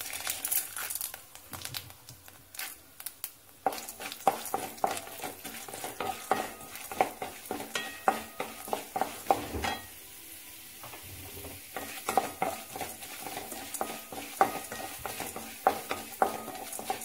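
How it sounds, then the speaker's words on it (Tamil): Chana dal, Bengal gram, frying in oil, a crackling sizzle full of quick popping bursts and repeated stirring scrapes, with a brief quieter pause midway. "இப்போ பொரியுது பாருங்க கடலைப்பருப்பு."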